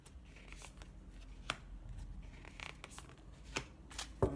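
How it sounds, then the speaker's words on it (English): Tarot-style angel cards are drawn from the top of a deck, making quiet papery slides and a few soft snaps and taps, close and faint, with no talk. "I'm just going to take the top three cards and see what comes up"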